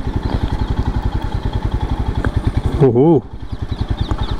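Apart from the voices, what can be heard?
Royal Enfield Scram 411 motorcycle doing turning radius test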